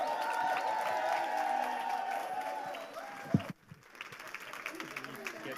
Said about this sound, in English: Give a warm round of applause for Xabiso Vili.